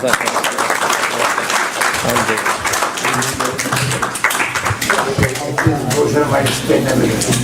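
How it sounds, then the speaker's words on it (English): Audience applause after a talk, a steady wash of many hands clapping at close range throughout, mixed with some crowd murmur and voices underneath. "Round of applause for Steve Stone."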